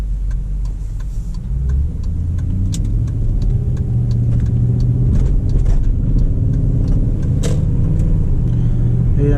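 Inside a 2004 Audi Allroad with the 4.2 engine, a steady deep engine drone and road rumble fill the cabin during gentle acceleration, with light ticks and rattles on top.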